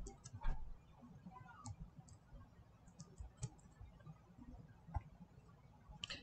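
Faint, scattered mouse clicks while logging in to a learning management system, several sharp single and double clicks spaced irregularly over quiet room noise.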